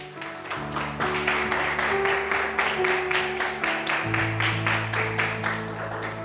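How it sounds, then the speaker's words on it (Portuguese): A church congregation applauds strongly with steady rhythmic clapping, dense and close, while an organ or keyboard chord sustains underneath. "Podeis se assentar e dar uma salva de palmas bem forte para Jesus?"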